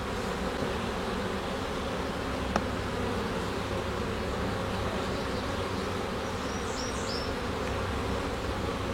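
A honeybee colony in an open hive fills the air with a dense, steady buzz that never lets up. A single sharp click cuts through it briefly partway in.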